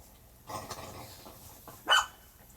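A dog barks once, loud and sharp, after a stretch of low background noise and faint indistinct sounds.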